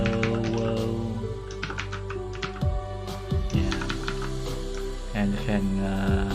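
Steady typing on a computer keyboard, a run of quick close clicks over a constant background hum, with some brief louder key strikes.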